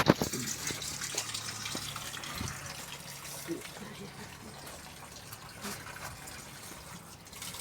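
Cold spring water gushes steadily from a mountain fountain spout below Bozdağ, a continuous close splashing flow, with people talking over it.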